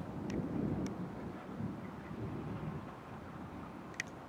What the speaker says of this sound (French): il y a un coup de tonnerre juste là.